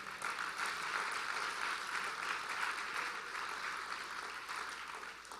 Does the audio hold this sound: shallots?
no